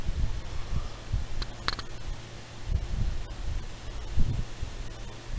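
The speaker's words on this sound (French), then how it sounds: "il y a beaucoup de vent et il pleut en même temps. C'est de la fine pluie" Wind gusts through woods with fine rain falling, a steady low rustling hiss outdoors with occasional soft thumps and brief clicks, no voices.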